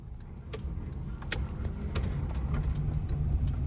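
A car's steady low engine and road rumble fills the cabin while it makes a U-turn, with faint clicks and rattles on top and the hum building slightly louder toward the end.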